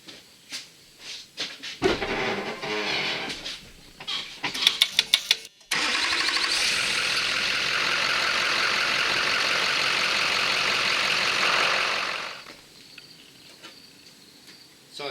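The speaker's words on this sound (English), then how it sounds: "once I start the engine up" A Duramax diesel truck engine cranks and fires up, then settles into a loud, steady broadband idle for several seconds before cutting off, with scattered clicks and clatter before the start.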